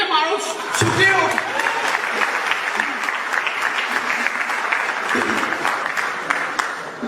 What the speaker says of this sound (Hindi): तालियां तो मारो, सुनते हो।